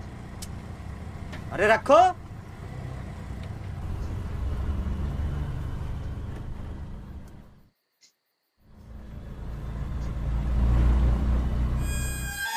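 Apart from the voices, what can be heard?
car being driven at night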